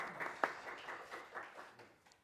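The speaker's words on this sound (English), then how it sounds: "Round of applause for them." Scattered applause from an audience in a conference room at a Formula Student event, faint and thinning out over a couple of seconds.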